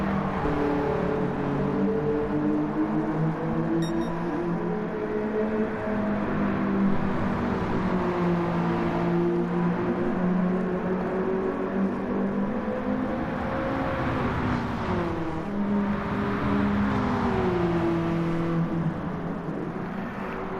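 A BMW E30 M3 and a Subaru 22B race wheel to wheel at Suzuka, engines droning steadily and loud throughout, with pitch rising and falling as the two cars accelerate and shift in close company.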